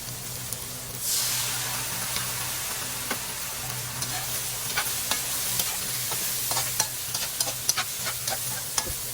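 Tofu is stirred gently into a hot frying pan for a budget Chinese-style dish, a soft continuous sizzle broken by scattered scraping clicks of the utensil, close and moderately loud without voices.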